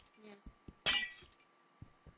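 A glass block breaks in Minecraft with one sharp shattering crash, brief and loud, set among soft clicks and game sounds as a voice is heard in the background.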